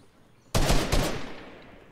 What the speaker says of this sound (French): Qui c'est qui tire?